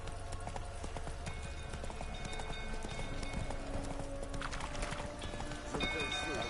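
Roach the horse gallops in The Witcher 3, steady clip-clop hoofbeats running throughout with ambient game sound and a voice talking over it.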